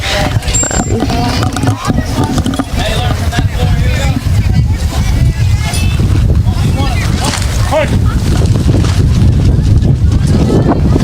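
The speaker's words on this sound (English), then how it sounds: "And this wind is brutal" Strong wind buffets the microphone at an outdoor high school softball game, a constant loud rumbling roar that runs unbroken beneath the play-by-play commentary.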